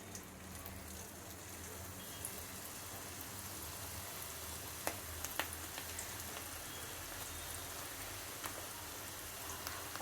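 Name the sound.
cabbage pakodi deep frying in hot oil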